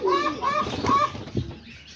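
Pigeons in a loft on a rainy day beat their wings in quick, close bursts, mixed with a few high, tonal bird calls before it settles down.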